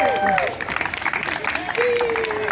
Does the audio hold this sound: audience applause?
yes